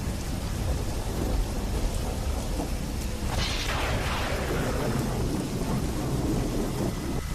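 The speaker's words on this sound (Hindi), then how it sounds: "सिर्फ बारिश का पानी और बिजली की कड़कड़ाहट थी और एक ठंडी हवा।" Steady rain pours down while a rumbling roll of thunder builds midway and slowly fades beneath the downpour.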